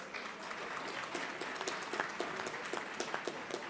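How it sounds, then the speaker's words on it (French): Audience applause at a school board federation congress, a dense spread of many hands clapping steadily at a moderate distance, with no one speaking over it. "le but, ce n'était pas de créer des applaudissements"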